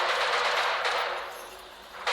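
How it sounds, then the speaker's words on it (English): Machine gun fire in the video game Stalker 2: Heart of Chornobyl, a fast rattling burst of automatic shots, loud at first and tapering off, then a sharp new crack at the end. "Is that gunfire over there?"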